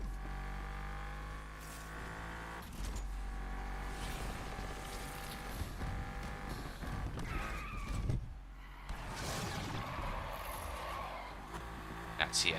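A car spins out while drifting in a racing video game, with steady engine drone and a brief tire-skid burst near the middle, all under game music and a talking voice.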